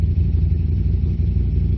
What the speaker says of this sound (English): to apologise for the noise of the motorcycles